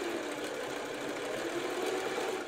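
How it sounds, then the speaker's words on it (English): A sewing machine runs in a steady, fast whirring stitch along the edge of a fabric cutout, close and continuous for a few seconds without any talking. "will sew astride the edge of the cutout, like this. I use the reverse stitch button to secure the stitch at the beginning."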